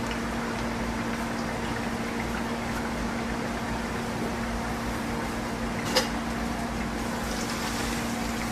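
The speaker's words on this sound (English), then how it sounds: "I can add liquid nitrogen to the dewar to cover up the puck and base and lid" Liquid nitrogen boils steadily in a dewar while a puck, base and lid cool, giving a continuous soft hiss and bubbling wash with a faint hum and one brief click near the end.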